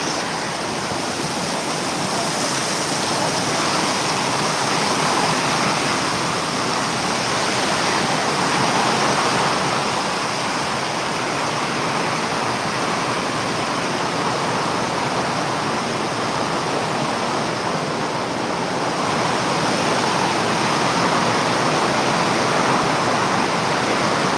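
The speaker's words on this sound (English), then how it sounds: "That wind is blowing like crazy." Strong wind roars without a break at a ranch, a loud, dense, unbroken rushing noise that holds steady for the whole stretch, with no voices.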